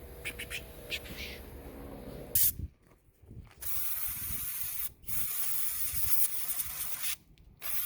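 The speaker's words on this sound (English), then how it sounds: "I need to take some brake clean and blast it down in there" Brake cleaner sprayed from an aerosol can down into a 727 transmission during seal replacement: several close, loud hissing blasts of varying length, separated by short pauses.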